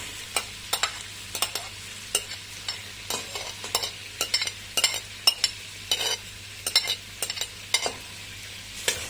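About three medium chopped onions sizzle steadily in a hot pan while a utensil scrapes and stirs them in quick, irregular strokes.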